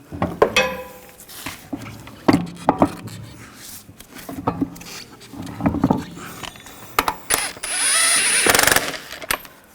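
A hand ratchet snugs down lug nuts on a Cadillac Escalade rear wheel, giving bursts of quick clicking pawl sounds and metallic clanks, separated by short pauses.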